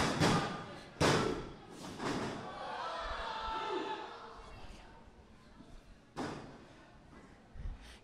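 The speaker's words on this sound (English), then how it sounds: "Huge power bomb." A heavy body slam thud from a powerbomb in a pro wrestling match, with sharp impacts on the ring mat and crowd noise. Commentators talk over it.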